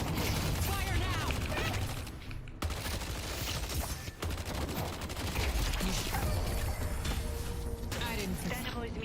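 A dense, chaotic barrage of rapid gunfire rattles through a Metro video game match, with overlapping bursts, impacts and mechanical clatter sustained throughout, while voices occasionally speak underneath.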